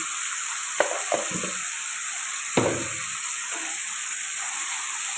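Brinjal dal frying in a pan, a steady close hiss of sizzling with a few sharp scraping stir strokes against the pan, no talking.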